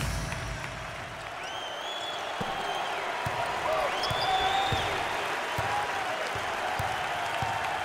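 A college basketball student section cheers and applauds at a Jackson State at Houston game, a broad sustained crowd roar with a few whistles and sharp ball bounces beneath a commentator's voice.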